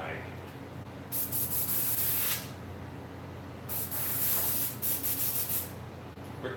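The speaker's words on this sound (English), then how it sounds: "if I know I need to spray it, I buy a new can" An aerosol spray can fires two long bursts of loud, broad hiss, each lasting over a second with a pause between, applied while making a fur mask pattern.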